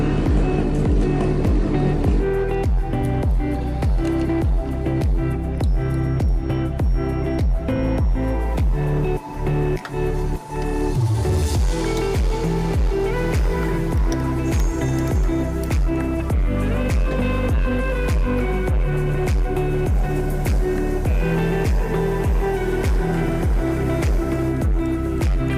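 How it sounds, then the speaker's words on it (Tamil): A Yamaha RX100 two-stroke motorcycle, just back from workshop repair and restoration, runs with a loud, close, droning exhaust note, rapid rhythmic pulsing and a brief dip in revs partway through. "என் வண்டியோட எக்ஸாஸ்ட் நோட்டை பற்றி என்ன நினைக்கிறீங்கிறத கமெண்ட் செக்ஷனில் கமெண்ட் பண்ணுங்கள்"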